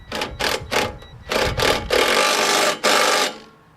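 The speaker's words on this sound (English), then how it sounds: "It's going to take a 10 millimeter and a 12 millimeter on the bolt and nut sections." Rapid ratcheting of wrenches tightening the bolts and nuts of a TrailMaster Mid XRS go-kart cage, several short bursts of clicking close by, the last ones longer, with no talk.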